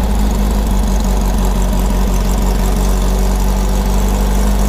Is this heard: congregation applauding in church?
no